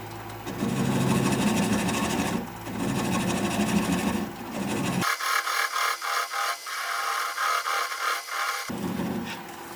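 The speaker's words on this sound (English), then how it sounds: "So I'm going to switch to a 3/8 inch swept back bowl gouge so that I can get in there a little bit closer" A wood lathe turns a hollow form while a 3/8 inch swept back bowl gouge cuts, giving a continuous whirring, rubbing drone with a shift in tone midway and rhythmic scraping pulses, close and steady.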